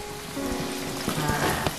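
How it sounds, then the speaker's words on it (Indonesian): Chicken pieces for homemade Kentucky-style fried chicken sizzle in hot oil, a continuous close crackling hiss with a few sharper pops and no talking. "aku goreng ayamnya ya"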